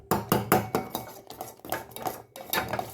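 A spoon scrapes and clinks rhythmically against a pot while black kavuni rice porridge mix is stirred, with repeated close metallic strokes and no talking.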